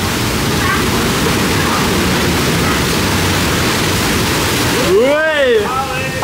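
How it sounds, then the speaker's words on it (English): Water spray effect on a ride at Islands of Adventure theme park, a steady loud broadband hiss of rushing spray and mist, with a person's whooping voice cutting in near the end. "Watch out for the water effect."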